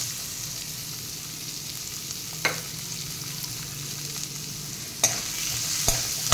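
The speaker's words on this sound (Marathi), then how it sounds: "कांदा थोडा गुलाबी रंगाचा होईपर्यंत आपण हे परतून घेऊया।" Chopped onion, ginger, garlic and chili sauté in a pan with turmeric and asafoetida. The close, steady sizzle carries a few sharp clinks from the stirring spoon, and no one speaks.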